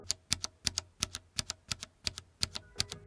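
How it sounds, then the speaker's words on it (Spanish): Mechanical keyboard switches clack in a quick, irregular run of about a dozen crisp keystrokes, heard close and alone at a low overall level. "ver cómo funcionan y sobre todo cómo suenan estos diferentes switches"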